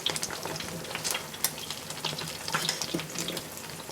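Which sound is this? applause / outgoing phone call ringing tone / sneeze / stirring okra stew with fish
stirring okra stew with fish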